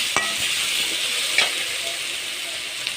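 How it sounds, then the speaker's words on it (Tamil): Capsicum sautés and sizzles in a pan while a spoon stirs it, scraping several times against the pan over a continuous frying hiss. No one speaks. "நல்லா குடமிளகா வதங்கிட்டுருக்கு"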